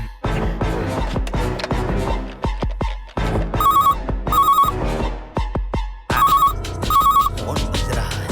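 An electronic phone ringtone chirps in repeated bursts over loud, busy background music, several rings in a row.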